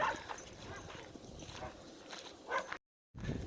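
Local dogs bark in a small rural community east of Edmonton, several moderately distant barks over outdoor background noise, with a brief dropout near the end.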